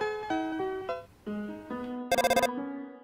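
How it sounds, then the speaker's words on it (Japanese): A cell phone in Undertale rings with a bright chiptune melody of stepped electronic tones, cut off by a short burst of rapid buzzing trills, loud and alone. "電話だ。"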